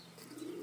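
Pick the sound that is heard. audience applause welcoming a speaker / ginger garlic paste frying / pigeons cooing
pigeons cooing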